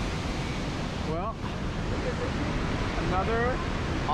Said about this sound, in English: another awesome waterfall